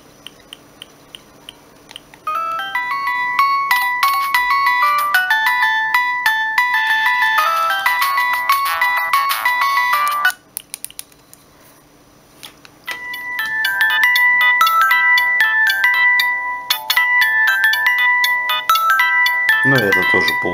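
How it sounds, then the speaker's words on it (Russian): Polyphonic ringtone played on a Siemens C65 mobile phone: a bright, beeping electronic melody in two bursts separated by a brief pause, loud and close with no talking over it. "Ну и это тоже полный рингтон, потому что он и так короткий изначально."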